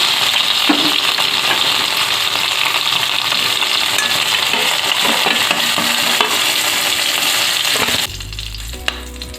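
Sliced okra frying in oil in a pan, a loud and steady close sizzle with occasional stirring clatter, cutting off near the end to a low hum.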